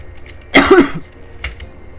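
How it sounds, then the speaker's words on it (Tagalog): A single loud, close cough bursts out, followed a moment later by a smaller throat sound, with no speech around it. "So, pasensya na yung ubo ko."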